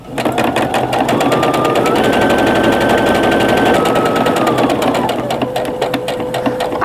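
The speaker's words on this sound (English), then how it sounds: "I'll lift my sewing machine needle up and I will turn it, and then I will start all the way from the edge and crisscross those seams" A home sewing machine stitches seams on a pillowcase, its needle hammering in a rapid, even mechanical rhythm, loud and close, with a motor whine that rises briefly in pitch mid-run before easing off.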